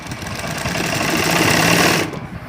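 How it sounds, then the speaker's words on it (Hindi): A sewing machine stitching lehenga fabric for a Ghoomar designer bridal lehenga, a loud close steady whirring run that stops abruptly after about two seconds. "फिर इसको बराबर लाके इस तरह से सिलाई लगानी है।"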